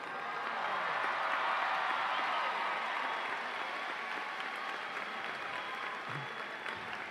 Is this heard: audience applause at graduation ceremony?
yes